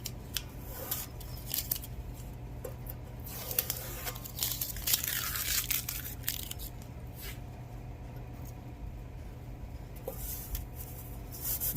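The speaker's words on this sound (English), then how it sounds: "I'll take this tape back off." Adhesive tape peeled off a bead-rolled metal art panel in a workshop, a few crackly, crinkling rips standing out over a steady low hum, fairly close and with no talk.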